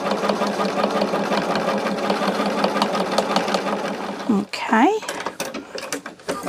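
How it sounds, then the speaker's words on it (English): A sewing machine runs steadily and loudly while tacking down pressed seams on a mini charm bag, then stops abruptly, and a brief spoken word follows. "this is also going to tack down those seams where I press them"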